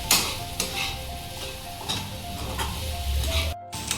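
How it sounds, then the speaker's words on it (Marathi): Sago pearls being sautéed in a pan over a full gas flame, a close, crackling sizzle broken by repeated scraping strokes of a spatula against the pan at an uneven rhythm, with no speech. "इथं छान परतून घेतलाय मी साबुदाणा"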